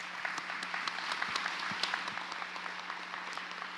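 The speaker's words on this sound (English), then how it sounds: "Can we give them all a warm round of applause?" Steady applause from an audience honoring a panel at an education summit, dense clapping with scattered louder claps, sustained and fairly close throughout.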